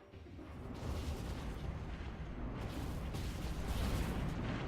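Weapons fire in a Stellaris space fleet battle against battleships and cruisers makes a dense, continuous rumbling barrage of booms and bursts, steady and moderately loud throughout.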